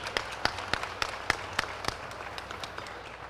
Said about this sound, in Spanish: Aplauso para María, por favor.